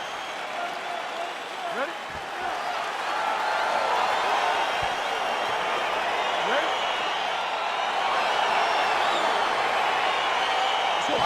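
Arena crowd in the EA Sports UFC 4 video game cheers steadily and builds louder as a fight gets underway, a dense roar filling the background beneath a brief spoken word.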